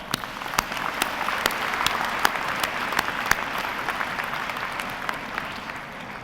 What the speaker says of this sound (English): Please give your family members a round of applause.